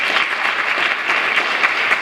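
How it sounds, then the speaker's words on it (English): An audience applauds steadily at a speaking event, a dense, even wash of many hands clapping together for the whole stretch, with no voices rising above it. "let's give them a round of applause once again"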